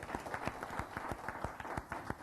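A panel discussion audience applauds, a brisk run of individual claps, fairly faint and a little distant, continuing for a couple of seconds with no talk.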